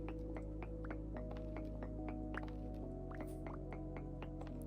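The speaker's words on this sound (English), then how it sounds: "I hear water over there." Water drips at irregular intervals inside a cave in the video game Vintage Story, a series of small plinks over a steady low hum of game ambience, with no voices.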